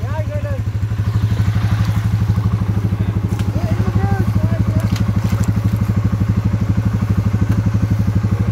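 A quad runner stuck in deep mud idles with a steady, throbbing engine note. Clattering and thumping come through alongside it, and voices are heard over the motor.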